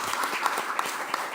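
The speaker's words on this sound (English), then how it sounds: "Ladies and gentlemen, can we give a round of applause for our panelists?" Audience clapping for panelists at a climate and agriculture side event, a brief burst of applause with distinct individual claps standing out over a steady patter.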